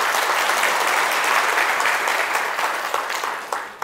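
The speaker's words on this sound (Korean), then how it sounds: "이분들께 열심히 하시라고 큰 박수 한번 부탁드리겠습니다" An audience at a civic talk gives strong, sustained applause in a thick burst of many hands clapping, which gradually thins and fades out toward the end.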